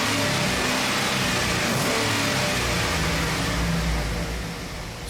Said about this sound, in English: So I'm gonna rev up the engine one more time.